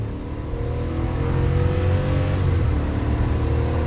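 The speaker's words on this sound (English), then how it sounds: "Let's see how this one accelerates." A 2025 Chevy Suburban with a 6.2L V8 accelerating hard from 0 to 60, its engine giving a loud, steady, rising drone heard from inside the cabin.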